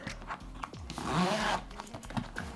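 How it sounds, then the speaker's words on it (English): A zipper slides open along the top of a Waterfield canvas case for the Apple Vision Pro, a quiet close rasping pull with soft handling rustles and taps around it. "So up on the top, there is a zipper."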